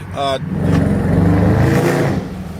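A 392 V8 engine on stock exhaust revs up into a deep, throaty rumble that holds, then eases off, with a brief voice at the start.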